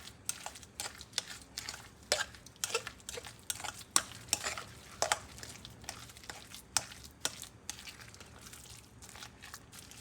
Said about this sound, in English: we're gonna stir this up